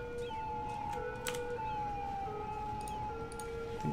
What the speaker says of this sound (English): what's with all the sirens?